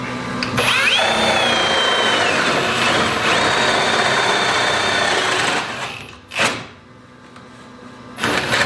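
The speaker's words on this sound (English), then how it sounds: "so let's drill these holes with this Forstner bit" A loud, steady whine of a drill with a Forstner bit boring into wood runs for several seconds, then cuts out, followed by a brief scrape and a quiet lull.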